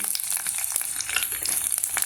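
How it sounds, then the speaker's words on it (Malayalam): Ginger, garlic and onion fry in hot coconut oil in a clay pot, a brief close crackling sizzle with rapid spattering pops. "വെളുത്തുള്ളി സവാള എല്ലാം കൂടി കുറേശ്ശെ ഇട്ട് കൊടുത്തിട്ട് വറുക്കാം"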